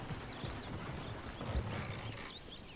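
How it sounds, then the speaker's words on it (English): Horse hooves clip-clop steadily in Red Dead Redemption 2, a continuous rhythmic patter of several horses moving close by, with a faint whinny and ambient game sounds around it. "Oh, shit, the horses! Damn horses!"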